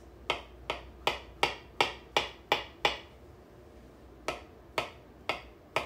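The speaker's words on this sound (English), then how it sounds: "I'm just going to slice mine up in little slices here and then cut it into little" A knife chops an avocado into small cubes on a cutting board, giving crisp evenly spaced knocks, about eight in a quick run, a short pause, then four more, close and clear with no talking.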